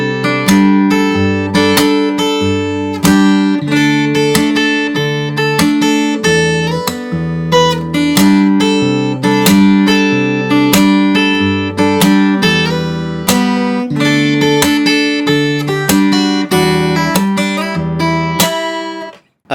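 Solo fingerstyle acoustic guitar plays a song from Kpop Demon Hunters, with plucked bass notes and melody plus percussive strikes in a lively, steady rhythm, close and loud, ending abruptly.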